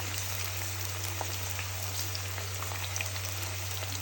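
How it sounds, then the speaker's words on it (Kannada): Onions deep frying in oil for a chicken fry, giving a steady, faint broadband sizzle under a constant low hum, with no talking. "ಅದನ್ನು ಆಯಿಲಲ್ಲಿ ಡೀಪ್ ಫ್ರೈ ಮಾಡ್ಕೋಬೇಕು"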